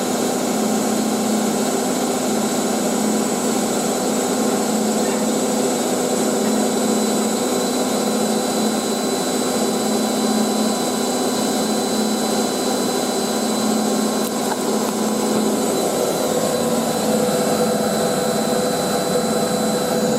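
Two Hotpoint 9530 washing machines, models 9530A and 9530W Electronic 1000, spin at once in a steady, loud, continuous motor whine and drum roar that shifts pitch slightly near the end, with no talking.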